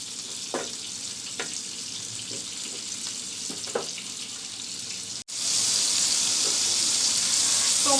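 Dried chillies fry in a little oil in a pan: a few quiet crackles and pops at first, then a loud, steady sizzle that starts abruptly partway through.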